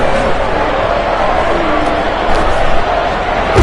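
A stadium crowd in the rugby video game Rugby Challenge 3 roars loudly and steadily throughout, a dense sustained wall of cheering.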